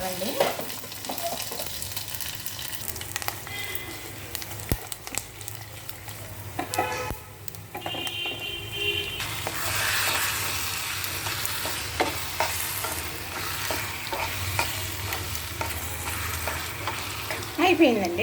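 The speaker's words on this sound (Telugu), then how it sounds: "చక్కగా పోపు వేసేస్తున్నానండి" Spices for tempering sizzle and crackle in hot oil for gongura curry. The frying is steady and close, broken now and then by sharp pops and the scrape of a stirring spoon.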